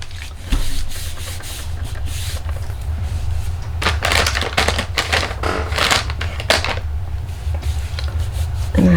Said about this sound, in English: then just fold this into it and press it